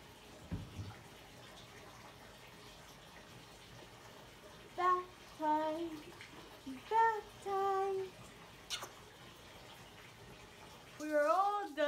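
A young child is bathed in a bathtub as water runs steadily, with short high vocal sounds and an adult voice breaking in over the flow.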